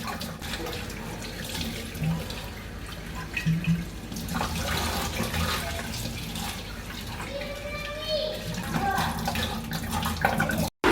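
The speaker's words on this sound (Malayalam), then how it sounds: "അപ്പം നല്ലോണം വെള്ളം നിറച്ചൊഴിച്ചിട്ട് ഇങ്ങനെ കുലുക്കി ഇതാക്കുമ്പോൾ അതിൻ്റെ സോപ്പും മതിയൊക്കെ ഇങ്ങനെ പോകും" A plastic bottle being filled with running tap water and shaken to rinse out soap, a steady splashing gush of water throughout, fairly close, with a few louder sloshes near the end.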